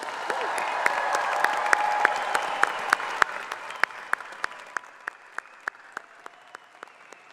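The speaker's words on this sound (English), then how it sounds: "please join me in applauding American Colleges of Education's graduating class of" Applause from a commencement audience for a graduating class, a broad wash of clapping that gradually thins out into scattered, distinct claps trailing off toward the end.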